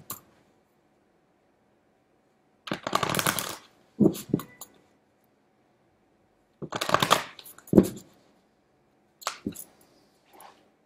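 Tarot cards being shuffled by hand in separate bursts, several quick riffling flutters and soft slaps with silent pauses between them, close and clear with no talking.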